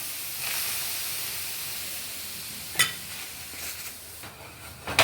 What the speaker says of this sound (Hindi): अब इसके ऊपर पानी के छींटे डालें।